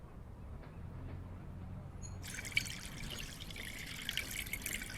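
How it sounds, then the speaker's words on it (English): Water runs from a sink as a faint, steady trickle under a low background hum. A brighter splashing layer joins partway through and continues to the end. "You can hear the water running."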